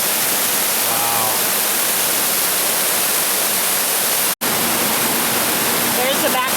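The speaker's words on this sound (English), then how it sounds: "Very cool waterfall." Big waterfall on a nature trail, a heavy, constant rush of crashing water heard up close, with faint voices under the roar and one brief dropout.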